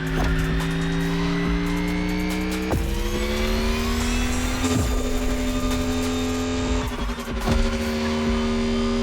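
A Mercedes EQ Silver Arrow electric car drives in The Crew Motorfest, its loud whining drive tone climbing steadily with a few sudden pitch drops and brief knocks along the way.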